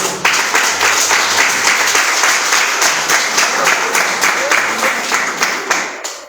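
A church congregation claps loudly and rhythmically in unison, a close, steady beat of many hands repeating roughly twice per second for the whole stretch before stopping abruptly at the end.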